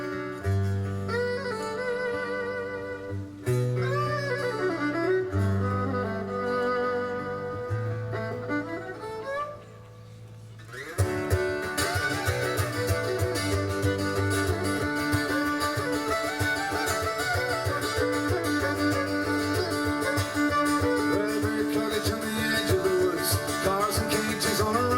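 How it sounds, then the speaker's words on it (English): Cello mandolin by Oddie played outdoors: plucked tremolo melody notes ring alone at first, then a full band with a voice joins in louder around the midpoint and carries on. "So this is the sound of an Oddie cello mandolin."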